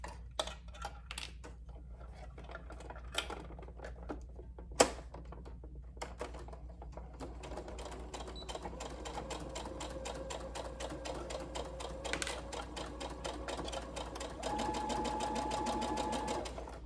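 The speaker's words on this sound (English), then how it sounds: "So move my machine back in place so I can sew it up." A sewing machine stitching a quarter-inch seam on a garment bodice runs in bursts of rapid, even clatter, starting and stopping before settling into a longer continuous run, close and fairly quiet.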